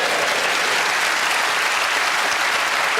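A studio audience at the Just A Minute TV panel show breaks into loud, steady applause, with dense clapping that fills the whole stretch without a break.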